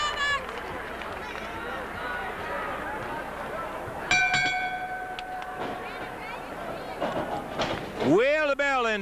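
A ringing bell starts a 1983 tag team wrestling match, Rock and Roll Express versus Jim Cornette and Alpha. It sounds once and sustains, then fades under a noisy arena crowd and an announcer's voice.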